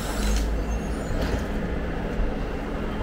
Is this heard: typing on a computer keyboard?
no